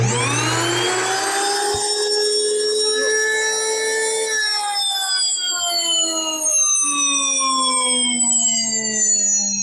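An electric grain mill grinding wheat into flour whines loudly and steadily, its high motor tone spinning down gradually in pitch over several seconds, with no voices.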